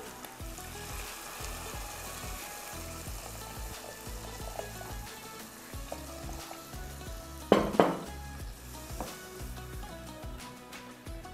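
Water hits a hot pan of shrimp and bursts into loud, close sizzling that then settles into a steady frying hiss, with a few light scrapes of stirring and no voices.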